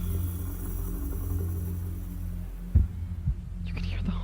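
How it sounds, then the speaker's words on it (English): A low hum of a song holds steady until a heartbeat effect enters with two deep, close thumps near the end, followed by a faint higher shimmer. "You can hear the heartbeat."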